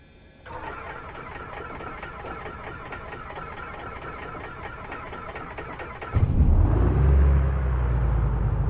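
Over-primed aircraft engine cranking in Microsoft Flight Simulator 2024, a rapid rhythmic starter chug for several seconds, then a sudden louder low rumble as it catches or floods.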